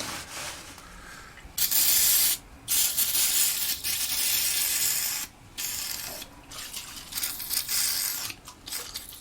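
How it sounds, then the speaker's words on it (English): Aerosol brake parts cleaner sprayed onto a Troy-Bilt TB4BP EC backpack gas leaf blower, heard as several close, hissing bursts of differing length separated by brief pauses, with a faint clicking mechanism underneath. "Just using some brake parts cleaner."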